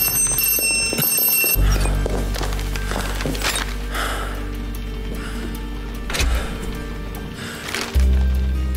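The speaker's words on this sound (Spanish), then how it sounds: "Alguien ha llamado al timbre de la puerta principal." A doorbell rings at the front door in the video game Ad Infinitum, bright ringing tones at the start, then quieter rattling room sounds and a low hum.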